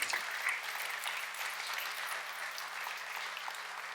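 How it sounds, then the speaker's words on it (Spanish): Steady applause from a church congregation fills the room at a moderate, slightly distant level, the clapping continuous without speech over it. "Denle un aplauso al Señor"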